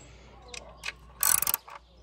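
A ratchet tightens the valve cover bolts on a Ford Focus 2.0 Duratec 16v with a few quick, close clicking bursts, the loudest burst coming near the end of the short clip.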